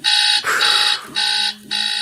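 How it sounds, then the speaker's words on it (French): An alarm clock rings in loud, shrill bursts, three or four repeated pulses with short gaps between them, close and insistent. "Tu en as marre que ton réveil sonne, hein?"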